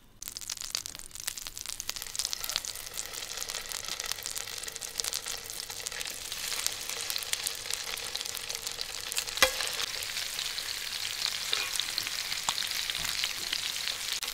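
Chunks of yellowfin tuna pan-frying in a hot pan give a steady, close crackling sizzle with fine spitting pops throughout, plus a sharp utensil tap near the middle.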